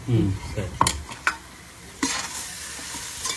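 Masala frying in oil for Ambur-style chicken seeraga samba biryani, a steady close sizzle with sharp spoon scrapes and stirring knocks against the pot, no voices.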